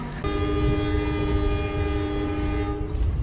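Passenger train in Indonesia heard from inside the carriage: a steady, loud rumble with sustained tonal whine and hum from the running train, continuous throughout with no talk.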